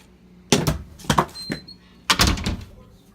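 A door is pushed shut with a couple of loud thuds and rattles, followed by a pause and another burst of knocking, clattering handling as it is locked, close to the listener.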